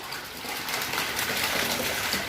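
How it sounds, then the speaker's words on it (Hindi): Water gushes steadily into a fish tank at a biofloc fish farm, a continuous broadband rush of pouring liquid, close and fairly loud, with no talk over it. "हाँ, उसका खोल दो पानी।"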